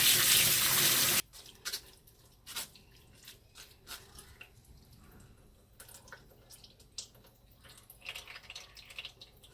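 Fresh oysters rinsed under a running tap, a loud burst of water at first, then softer splashing, drips and wet squishing as the shellfish are handled in a sink.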